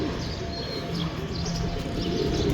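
A single pigeon coos softly and repeatedly up close against a steady background hum, with faint chirps now and then.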